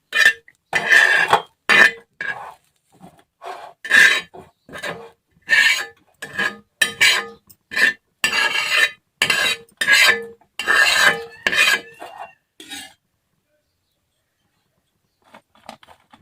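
Spatula scraping roasted onions out of a pan while making a spicy bitter gourd curry, a series of sharp rasping strokes in uneven rhythm, close and fairly loud, ending in a quiet pause.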